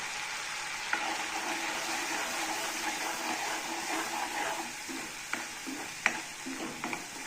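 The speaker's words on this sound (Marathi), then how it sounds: "त्यालाही चांगलं फ्राय होऊ द्यायचं।" Red chili powder, turmeric, salt and coriander powder fry in oil for a fish curry, a steady close sizzle with a few sharp spoon taps near the end, no voices.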